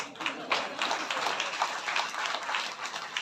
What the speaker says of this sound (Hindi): यहाँ ताली बजेगी तो लोग कहेंगे भक्त ताली बजा रहे हैं।